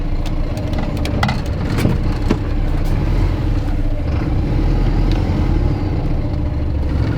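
A heavy truck engine revs hard while the wheels spin and slip in a field, a loud continuous roar with scattered knocks and rattles and no speech.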